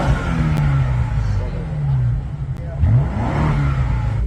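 A modified BMW G90 M5 engine hums and revs up, pitch sliding upward near the end, with people talking over it.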